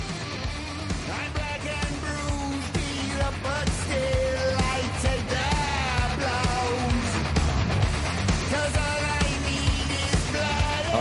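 Ozzy Osbourne's heavy rock song "Let Me Hear You Scream" plays loud and continuous, with driving guitars, drums and a sung vocal line running throughout.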